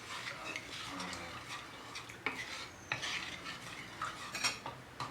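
A spoon stirs tamarind water and jaggery in a bowl, giving soft, faint scraping and occasional clinks in an irregular rhythm.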